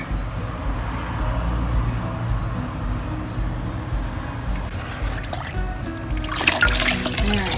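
Six-month-old fermented kaffir lime liquid being strained through a filter, a steady close trickle and pour that swells into a brighter, splashier flow near the end.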